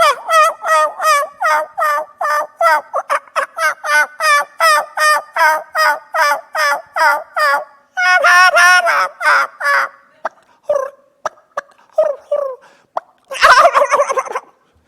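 A wild turkey gobbles loudly in a long run of rapid, rattling bursts, pauses, gobbles again, then scattered clucks and a final burst up close.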